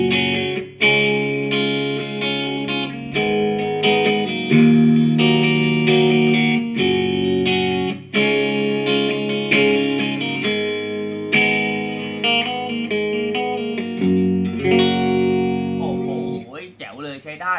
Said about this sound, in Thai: อันนี้เป็นเสียงคลีนนะครับ